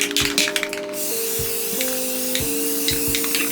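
A Chevy Silverado tailgate is being spray painted, with bursts of hissing spray from a nearby can over a steady whining tone that steps in pitch, with short intermittent pulses and no speech.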